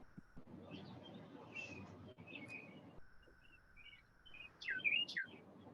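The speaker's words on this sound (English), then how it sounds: "Birds chirping." Faint, sparse bird chirps sound over a quiet hiss: scattered short tweets and whistles, and then a livelier, closer burst of chirping near the end, with no talking.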